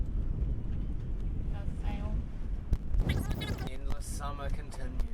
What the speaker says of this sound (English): as you may or may not be able to hear or see, it is extremely windy